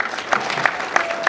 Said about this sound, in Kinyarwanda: reka tumushimire dukoma amashyi tumushimire